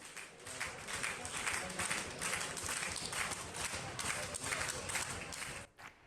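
Theatre audience in the upper gallery clapping and banging in protest, a dense, sustained wash of rhythmic applause and thumps from a crowd, steady throughout before dropping off briefly near the end.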